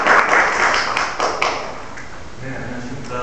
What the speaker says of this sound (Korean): 박수를 맞아주시면 감사하겠습니다.